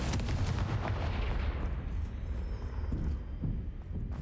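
A fire spell blast in the video game Hogwarts Legacy: a loud booming explosion with a heavy low rumble and crackling burst at the start, decaying into a rolling roar that stays strong through the rest of the clip.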